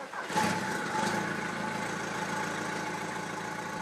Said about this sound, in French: on peut entendre que ce moteur tourne de façon très régulière